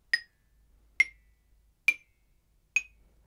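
Four short, evenly spaced struck notes from a mallet percussion keyboard, each with a sharp attack and a quick, damped decay, about one per second and heard alone.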